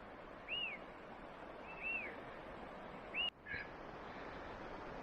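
Three faint, evenly spaced whistled bird calls, each a short rising-falling note, over a soft steady outdoor hiss, followed by a brief click.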